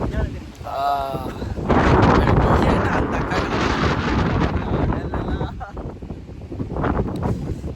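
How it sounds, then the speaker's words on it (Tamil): Strong wind blows up top on a trip from Vavuniya toward Sigiriya in Sri Lanka, loud gusts buffeting the microphone almost continuously, with voices talking briefly near the start. "மேலே செம காத்தடிக்குது"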